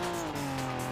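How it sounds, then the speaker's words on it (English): Engine of a 90s Porsche 911 Turbo S in BeamNG, a loud steady droning hum with a strong tonal pitch holding across the brief moment, no voices. "You're a big, loud Porsche."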